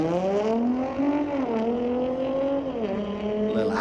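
At a street legal drag night at Mission Raceway Park, an Audi and a 2010 VW Touareg pull hard off the line, one loud, close engine note rising and shifting through gears with a strong harmonic whine.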